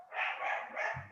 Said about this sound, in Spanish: Hay un perro que viene por allí